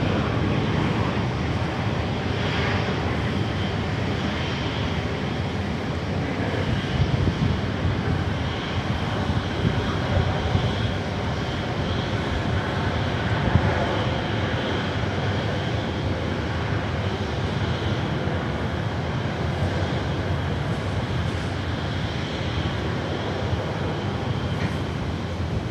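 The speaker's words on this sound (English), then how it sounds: "The Fiji A350 just rolling in." A Fiji Airways Airbus A350 taxis at Sydney Airport, a steady broadband engine rumble and whine holding close and loud throughout with no voices.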